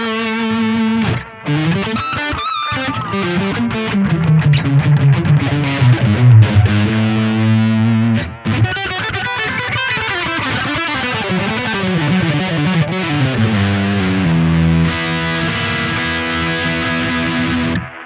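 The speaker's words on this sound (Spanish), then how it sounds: "Y tenemos un poco de delay, típico para solos, suena así." Electric guitar solo played through a pedalboard with boost and delay engaged, a loud, distorted lead line with sustained notes and repeating echoes running continuously, with a brief drop near the middle.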